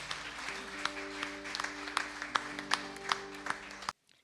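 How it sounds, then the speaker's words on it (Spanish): Church congregation clapping at moderate distance, scattered sharp claps over a sustained keyboard chord, stopping abruptly at the end. "denle un fuerte aplauso"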